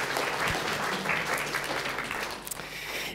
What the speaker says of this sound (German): Applaus für den Boxer.